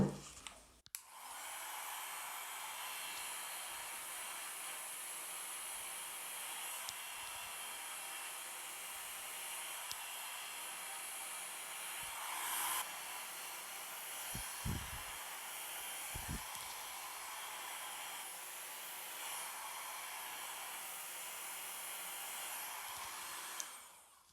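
A hair dryer blows steadily while drying bangs, a loud continuous airy whoosh that runs almost unbroken, with a few brief low thumps and small shifts in tone as it moves.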